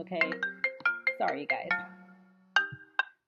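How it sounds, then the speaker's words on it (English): A mobile phone plays a chiming electronic ringtone of bright rhythmic notes, loud and close. Someone speaks briefly over the ringing before it cuts off. "I'm sorry, that's my phone."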